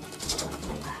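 A single pigeon gives a short, low coo nearby, brief and soft with a slight throaty roll.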